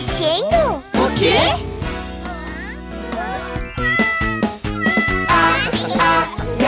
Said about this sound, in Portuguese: gatinho fofo, o gato está na caixa